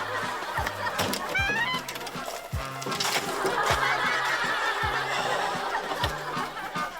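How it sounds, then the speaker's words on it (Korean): A turkey calls with a string of low, throbbing pulses repeated at a steady rhythm, while higher chuckling, fowl-like calls rise over the top. "오! 저 칠면조예요?"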